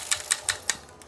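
A single bed knitting machine carriage pushed across the needle bed, a close series of about six sharp clattering clicks at a fairly even rhythm, with no talking.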